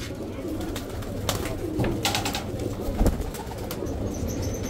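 Pigeons coo steadily in a crowded bird market in Al-Adhamiyah, Baghdad, with scattered chirps, some wing flutters and faint voices in the background throughout.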